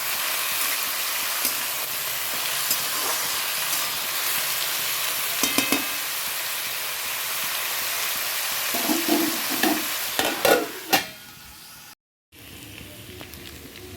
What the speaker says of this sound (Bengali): ভাতটা দিয়ে দেবো দিয়ে ভাতটা ভেজে নেব